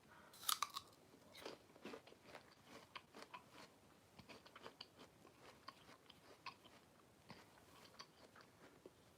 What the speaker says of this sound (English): I have to keep eating this